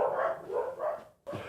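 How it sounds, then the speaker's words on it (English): Dogs bark a few times in quick succession at moderate distance near a workshop, followed by a brief pause and one more bark. "there goes my dogs barking again."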